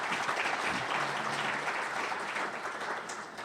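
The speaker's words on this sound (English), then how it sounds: "Give yourself a round of applause." Sustained applause from a conference audience at a Vermont renewable energy gathering, dense steady clapping that holds strong throughout and eases slightly toward the end, with no voices over it.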